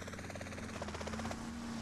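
Helicopter in a GTA video game, its rotor making a rapid pulsing chop over a steady engine whine, close and loud with no talk.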